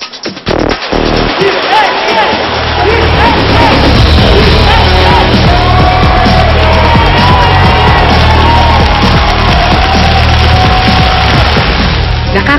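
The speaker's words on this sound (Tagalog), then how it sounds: "Nakakabingi ang hiyawan ng mga tao sa tuwing lalabas ang kanilang mga pambatong atleta" A dense, loud crowd roars and yells continuously at a powerlifting competition in Jai Base Stadium, with whoops and shouts layered over a constant low rumble throughout.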